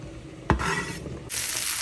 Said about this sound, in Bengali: এখানে আমি কচুর ফুল ভাজা করছি